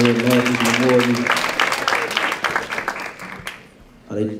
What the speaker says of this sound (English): Give him a round of applause for his new leadership